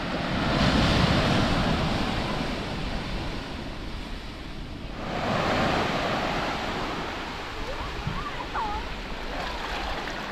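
Ocean waves washing onto the shore at Pender Bay on the Dampier Peninsula, a broad steady roar with gentle surges and wind buffeting the microphone, continuous and fairly close, with no talk.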